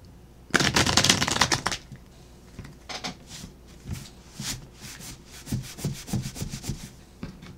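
A deck of playing cards is shuffled up close, a loud dense riffle burst followed by scattered softer slaps and shuffles, with no talk over it.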